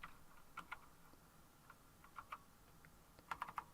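Someone types on a computer keyboard nearby with soft, sparse clicks, a few single taps and then a short quick burst of keystrokes at the end, in a quiet room with no speech.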